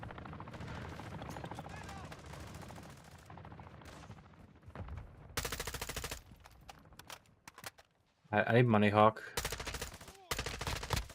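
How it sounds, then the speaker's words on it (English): Gunfire rattles through a video game, with bursts of automatic shots and sharp loud cracks amid game audio, while a player talks over the action. "I'm hearing gunshots everywhere."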